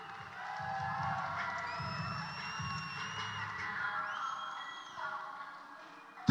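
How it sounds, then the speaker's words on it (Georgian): A crowd cheers and applauds for several seconds at a bare-knuckle fight show, with sharp whistles cutting through the sustained roar before it fades. "აბა ერთი ოვაციები!"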